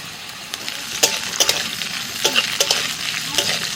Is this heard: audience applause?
no